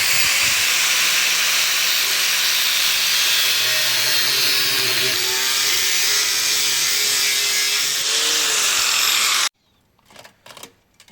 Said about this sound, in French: on va découper à la meuleuse sur la soudure